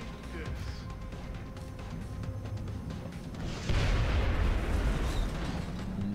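A loud explosion bursts partway through a turn in XCOM: Enemy Within, a broad rumbling boom that lingers over the game's background sound, with some talk around it.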